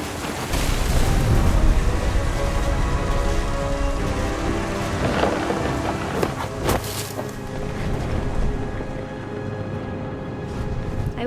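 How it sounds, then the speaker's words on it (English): Thunderstorm in the video game What Remains of Edith Finch, with steady loud rain and deep rolling thunder close by, plus sharp cracks midway, and no voices. "The thunder sounded much too close and full of angry power"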